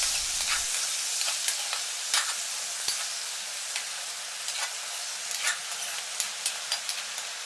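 Chopped green banana with turmeric fries in a pan, giving a soft, continuous sizzle and hiss, punctuated by scattered light clicks and scrapes of stirring; fairly quiet, with no talking.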